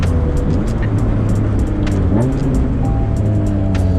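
Right-hand-drive Acura Integra with a K20 engine and sticky tires driving slowly over a rough, bumpy road, giving a steady loud engine drone and road rumble throughout, with small thumps and rattles and no talking.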